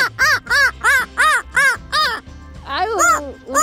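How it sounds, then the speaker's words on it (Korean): A crow caws in a quick series of about eight harsh, rasping calls, loud and close, followed by a ragged, drawn-out caw, with people talking nearby. "까마귀예요?"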